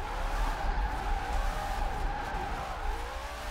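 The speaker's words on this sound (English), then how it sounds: "I can drift here in Horizon 4" A Ford Mustang RTR drifting in Forza Horizon 4, a steady engine drone with wavering tire squeal running continuously through the short stretch, fairly close and unbroken by talk.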